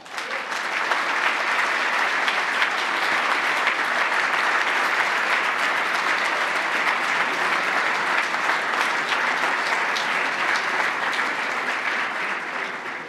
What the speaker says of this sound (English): Please join me to give them a big applause.